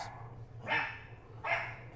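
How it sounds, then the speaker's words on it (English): A dog barks twice in the background of a home, two short separate barks about a second apart at moderate distance over a low steady hum. "that's not even my dog"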